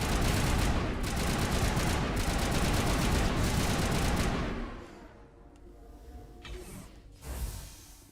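Rapid automatic gunfire erupts in a firefight on Noveria in the video game Mass Effect, a loud, dense burst of shots lasting several seconds before it drops away to a few scattered, quieter shots and echoes.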